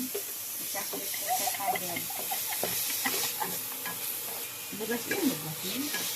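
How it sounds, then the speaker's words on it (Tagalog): Garlic, onion, tomato and shrimp paste sautéing in a pan, a steady sizzle with stirring scrapes throughout, voices talking over it. "ginisa niya sa bawang, sibuyas, kamatis, at bagoong"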